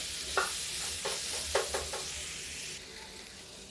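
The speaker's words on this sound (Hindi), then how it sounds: "अब इसको हम हल्का फ्राई कर देंगे, बिल्कुल पकौड़ी का टेस्ट देता है।" Pieces of rice-flour dough fry lightly in hot oil with a steady close sizzle, broken by several scraping stirs of a spoon against the pan.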